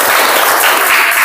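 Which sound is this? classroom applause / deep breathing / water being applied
classroom applause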